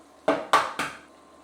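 Eggs cracked against a pan edge for shakshuka, three sharp knocks in quick succession, close and clear with no talk.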